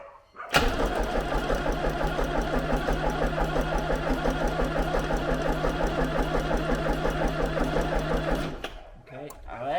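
A Range Rover Classic fitted with a 2.5 VM diesel engine cranks over on the starter in a steady, rapid, mechanical churning for about eight seconds, loud and close, before it cuts off.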